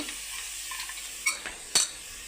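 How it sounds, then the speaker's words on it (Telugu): Chana dal goes into cooked masala frying in a pan, a soft ongoing sizzle punctuated by two sharp metallic clinks and scrapes of a spoon, close up with no talking. "ఇందులోకి మనము శనగపప్పు వేసేసుకుందాము"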